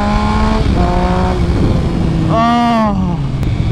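A Triumph Speed Triple 1050 inline-three motorcycle engine revs up and drops back in two or three rising and falling swells, loud and close, with someone talking over it.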